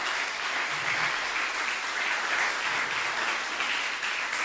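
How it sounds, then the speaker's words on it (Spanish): Steady applause fills a church service, a broad, even wash of clapping from a congregation that holds at a moderate level without breaks. "Denle un fuerte aplauso al Rey de Reyes."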